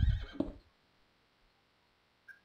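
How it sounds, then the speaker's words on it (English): A Minecraft horse gives a short, close whinny at the very start, then near silence follows with only a small faint tick near the end. "It's a horse."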